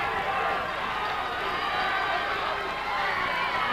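Swarthmore fans cheering in the stands at a 1998 college football game against F&M, a steady, dense crowd roar in the final minute, continuous and fairly loud throughout.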